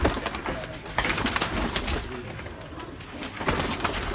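Pigeons kept by a breeder cooing in a loft, a dense, continuous low murmur of overlapping coos at close range with occasional rustles and bursts of movement, no speech.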